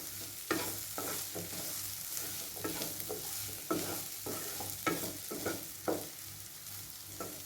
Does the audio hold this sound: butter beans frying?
yes